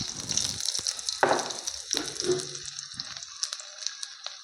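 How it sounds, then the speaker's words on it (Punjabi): Cumin seeds and finely chopped ginger fry in a pan for a green pea and boiled potato curry, giving a steady close bright sizzle with crackling bursts and no voices. "ਜੀਰੇ ਨੂੰ ਆਪਾਂ ਹੁਣ ਥੋੜਾ ਜਿਹਾ ਭੁੰਨ ਲਾਂਗੇ"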